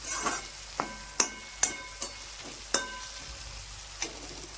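Oil sizzles and crackles in a pan as a tempering with curry leaves fries, with several sharp pops and spatters at irregular intervals over a soft, steady hiss.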